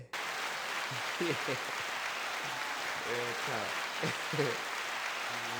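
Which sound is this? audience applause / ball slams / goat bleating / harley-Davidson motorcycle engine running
audience applause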